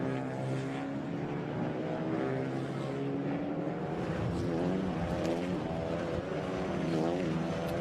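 Clio Cup race cars circle the Magny-Cours circuit during 2021 qualifying, a dense field of 38 cars; engines drone loudly and continuously, with overlapping rising and falling whines as cars pass.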